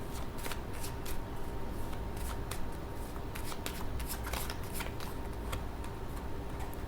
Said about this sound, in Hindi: सबसे पहले मैं यहाँ पर कार्ड्स निकाल लेती हूँ